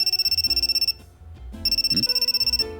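A phone ringing in a visual novel game, with a rapid trilling electronic ring in two bursts separated by a short pause, fairly loud and alone, with a soft background music tone underneath.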